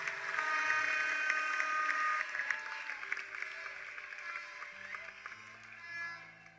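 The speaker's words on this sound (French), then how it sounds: "Clap for the truth." A church congregation claps together loudly for about two seconds, then the clapping thins out and fades as sustained keyboard tones carry on beneath it.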